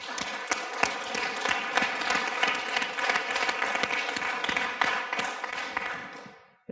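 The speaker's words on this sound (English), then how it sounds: "So how about a round of applause?" Steady applause from a crowd, many hands clapping densely for several seconds before it fades out and stops.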